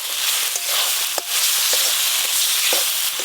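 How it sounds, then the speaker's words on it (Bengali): Ginger, garlic and onion paste with cumin, dried and green chili paste, turmeric, salt and chopped tomato frying in a pan, a continuous loud sizzle broken by the scrape and clack of stirring. "আদা রসুন পেঁয়াজ বাটা, জিরে শুকনো লঙ্কা আর কাঁচা লঙ্কা বাটা, হলুদ গুঁড়ো, লবণ, টমেটো কুচিও দিয়ে দেব।"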